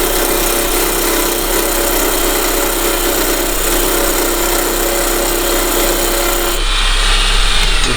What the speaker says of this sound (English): I'm going to come in with a skew because I want to cut a tenon on each side. So I'm just going to come in with a peeling cut.